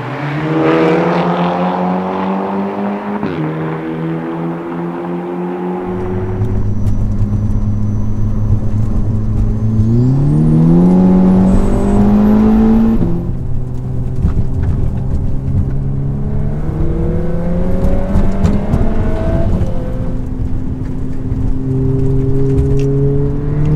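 Volkswagen Golf R Mk6, Mk7 and Mk8 cars, tuned to roughly 400–450 hp, accelerating hard side by side in a drag race, engines rising in pitch through several gear shifts, loud and close throughout.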